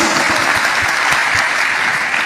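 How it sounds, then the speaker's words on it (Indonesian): Steady, loud applause from a church congregation clapping in praise, a dense continuous wash of hands with no break across the short stretch. "Tepuk tangan bagi Kristus."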